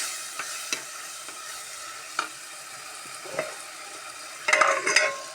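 Food frying in a pan with a soft sizzle, punctuated by several scraping stirs, with a louder clatter of stirring near the end.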